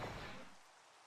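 Steady rain hissing down in a Minecraft world with the ATM9 modpack, a soft broadband wash that fades slightly and stays faint throughout.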